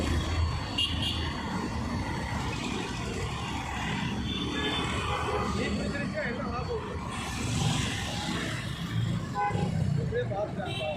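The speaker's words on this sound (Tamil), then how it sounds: "இங்கே வேறு வண்டி வேறு டிராஃபிக் ஆகிறதுனால மாறி மாறி வந்துகிட்டே இருக்குது" Steady passing road traffic near a fire under an electricity transformer, with vehicles rumbling by continuously and occasional horn toots, heard under people talking.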